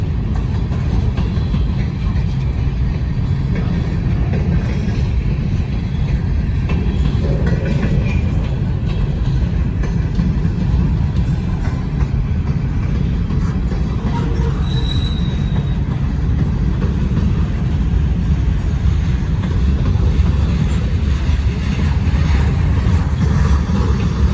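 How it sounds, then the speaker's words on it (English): A two-mile-long freight train rolls past beneath B&O signals, a loud continuous rumble of wheels and cars with occasional squeals, sustained and close for the whole stretch without talk. "This train is a monster."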